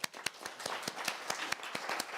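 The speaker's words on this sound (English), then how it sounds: "Let us give them a big round of applause." Audience applause at the Brussels Korea Forum 2022, a brief burst of distinct, fairly quiet hand claps with a scattered, uneven rhythm.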